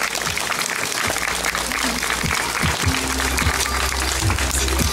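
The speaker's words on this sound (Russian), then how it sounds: "Давайте же вместе поприветствуем наших учителей бурными аплодисментами!" Crowd at a school Knowledge Day ceremony giving the teachers enthusiastic applause, a continuous loud wash of clapping with scattered voices and low thumps beneath.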